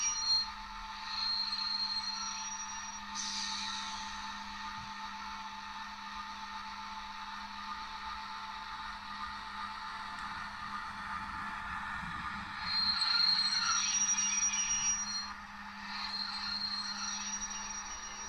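A model ST44 (M62) diesel locomotive sound module plays a braking effect: a steady engine drone with sustained high brake squeals and hissing that come and go, alone with no talk.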